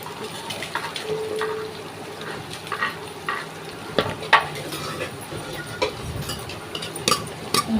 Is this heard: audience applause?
no